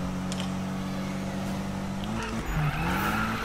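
A car drifting in the Need for Speed 2015 racing game, with a steady loud engine drone throughout and tire squeal that rises and wavers near the end.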